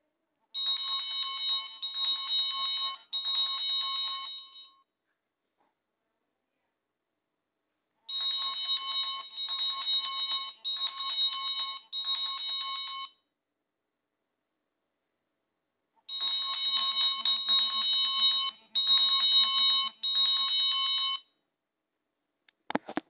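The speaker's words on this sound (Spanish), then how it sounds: "cualquiera emitirá un repique de campana de 5 segundos a intervalos que no excedan de 1 minuto" A ship's bell rings in three bursts of rapid repeated strokes, each lasting about five seconds and separated by silence, clear and fairly loud.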